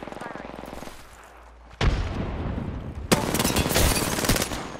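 Mastiff shotgun blasts in a fast-paced shooter game, two loud booming shots a second or so apart over a busy game soundscape, with a player's voice talking at moments.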